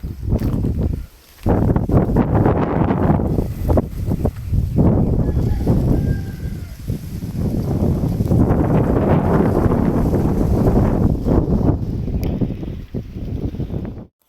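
Gusty wind buffeting the microphone in loud, rumbling bursts, with rustling between gusts and a brief lull near the start.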